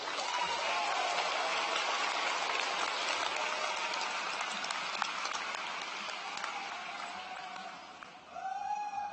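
Audience applause at the Shadle Park High School 2018 graduation ceremony, a dense, sustained wash of clapping from a large crowd that thins out near the end as a voice begins speaking.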